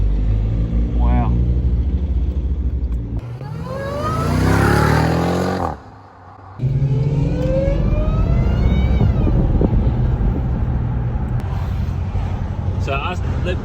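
A Jeep Trackhawk engine roars and revs loudly and continuously, with a rising surge midway before a brief lull, then revs climb again as people talk over it.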